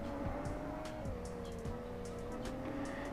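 An engine revs steadily while a car drifts in Car Parking Multiplayer, with tyres squealing in short repeated bursts over the continuous drone.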